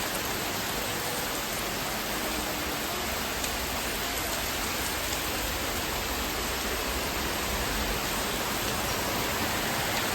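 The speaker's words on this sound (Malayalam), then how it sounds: "നല്ല അടിപൊളി മഴയാണ്" Heavy afternoon monsoon rain pours down steadily with thunder about, a dense, even roar of downpour with no break and no voices.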